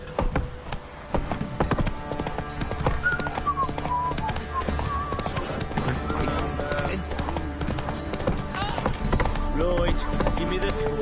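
Geralt's horse Roach galloping in The Witcher 3, steady rhythmic hoofbeats close and loud throughout, beneath spoken dialogue, a snort or whinny and game music.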